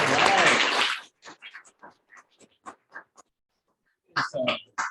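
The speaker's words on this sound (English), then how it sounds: "Give me a round of applause, everybody." A meeting audience gives a round of applause for about a second, dense and fairly loud, before it cuts off and a single voice begins talking.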